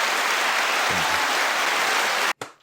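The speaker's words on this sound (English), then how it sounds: "Give yourself a big round of applause." A round of applause from a small podcast audience, dense and steady clapping that cuts off sharply near the end, followed by a brief thump.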